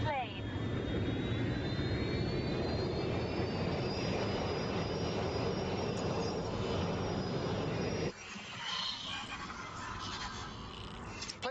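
A fixed-wing airplane flies in the Watch Dogs Legion video game, its engines a loud, steady drone with a rising whine, held for about eight seconds before the sound shifts and thins.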